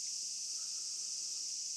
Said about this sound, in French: il y a les grillons, c'est pas très discret